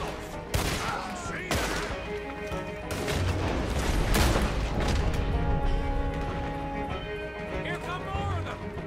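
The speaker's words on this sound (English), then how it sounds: "Let's use this new rifle." A new rifle fired in Red Dead Redemption 2: several sharp, loud shots ringing out across a busy scene, with hooves and voices heard between the blasts.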